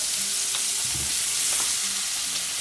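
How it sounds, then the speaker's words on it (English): Padron peppers and prawns roast in a hot frying pan with chilli, giving a steady close sizzle and crackle, with a few soft stirring scrapes. "Padron peppers are starting to roast."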